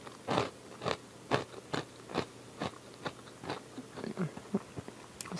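Apple Jacks Caramel cereal is crunched in bites, with about a dozen close, crisp crunches at a steady chewing rhythm and no talking.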